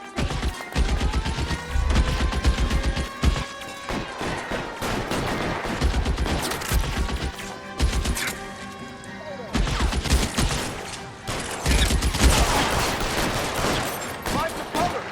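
Gunfire in the video game L.A. Noire, dense bursts of rapid shots and machine-gun fire rattling continuously with crashes, loud and close, with game voices shouting between volleys.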